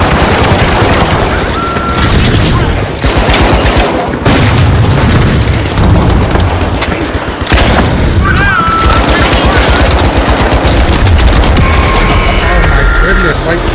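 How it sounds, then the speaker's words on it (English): Dense, continuous gunfire and booming blasts from a large Minecraft civilization server battle, with rapid bursts and loud impacts crowding the whole stretch while a voice talks over the game audio. "what am I shooting potatoes out of this gun?"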